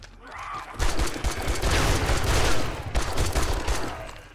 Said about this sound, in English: then I spammed a machine gun